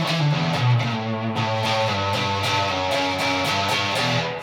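Electric guitar driven through a Tubescreamer overdrive pedal into an amp, strummed chords and picked notes ringing with mild crunchy distortion, steady and up front with no talking.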